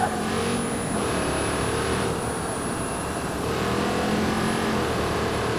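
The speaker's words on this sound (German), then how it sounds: "Das Auto ist unheimlich laut" A loud car engine drones at a steady high pitch as it drives fast along a highway in Watch Dogs 2, with sustained revving and no pauses.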